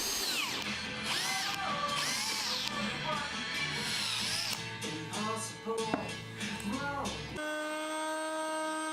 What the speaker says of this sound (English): I could then flip them over and drill from the other side